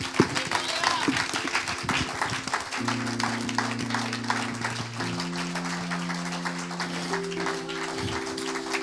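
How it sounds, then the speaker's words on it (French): A church congregation claps and cheers at length, a dense, steady wash of applause and voices under sustained music tones, moderately loud throughout. "Si tu veux acclamer, acclame bien."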